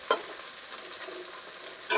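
Taro stolons stir-fry in a pan in a vegetarian home kitchen, making a steady close sizzle, with a sharp scrape of a spatula at the start and another at the end.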